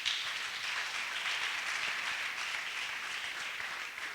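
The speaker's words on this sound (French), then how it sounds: "Donnons une acclamation au Seigneur." Church congregation applauding during a sermon, an even, sustained roar of clapping from a large crowd, heard clearly and uninterrupted by speech.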